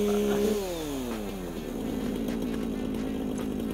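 A chainsaw in the video game Satisfactory buzzes quietly, its pitch sliding down over about a second before it settles into a steady, rough drone.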